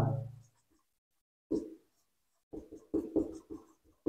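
Pen scratching on paper while working a math problem, short scribbling bursts separated by pauses, growing quicker and denser toward the end, close and fairly faint.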